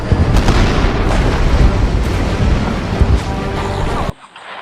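A continuous, heavy rumbling roar of video game bomb blasts and bursts fills the clip, loud and dense, then cuts off abruptly near the end, leaving faint background noise.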